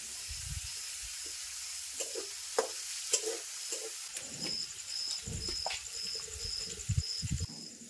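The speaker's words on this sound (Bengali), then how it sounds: "পেঁয়াজ আর মরিচটা লাল লাল করে ভাজা হয়ে গেছে" Onions and chillies fry in hot oil with a steady sizzle, broken by repeated scraping and clattering strokes of stirring, close by; a faint, evenly spaced high beeping runs through the second half.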